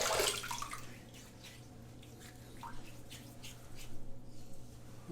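Tap water runs and splashes as a razor is rinsed during a wet shave with an Ever-Ready 1912 safety razor; a soft, continuous trickle with faint drips, heard close up and alone.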